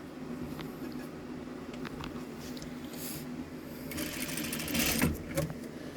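Sewing machine stitching along a fabric bag strap, a soft steady whirring run close by, growing slightly louder toward the end, with no talk.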